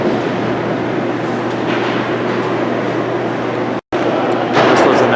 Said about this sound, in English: he runs this to get the freight elevator running